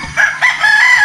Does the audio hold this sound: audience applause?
no